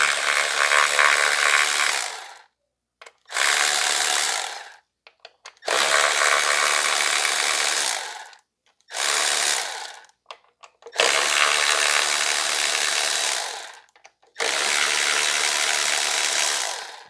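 Power tool whirring in repeated bursts of about two seconds each, separated by short silences, loud and close, as bolts are removed from a 2005 Toyota Corolla engine being repaired for a misfire.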